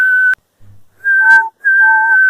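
A single voice whistles in long, steady, piercing notes, imitating a steam engine's whistle, loud and close, in three blasts broken by short silences.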